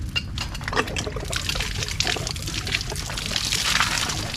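Strong, steady gush of water from a newly installed Jetmatic hand pump, a continuous loud pour and splash close by, with faint voices in the background.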